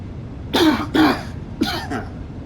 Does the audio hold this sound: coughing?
yes